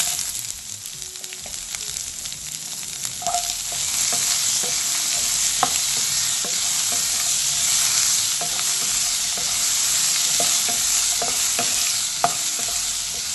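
Chopped big onion, garlic and green chilli fry in a pan for a potato curry, a continuous hiss of sizzling oil with occasional spoon clicks and stirring scrapes, louder after a few seconds when more is added.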